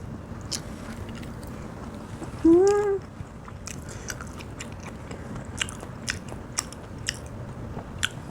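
Chewing thick-sliced Korean raw fish, hoe, with soft close biting and mastication sounds and small crunches over a low background, plus a brief voiced hum partway through.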